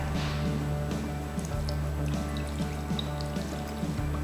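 Milk pours from a container into a kitchen pot in a steady trickling stream, with soft splashing and gurgling close by and a low background hum underneath.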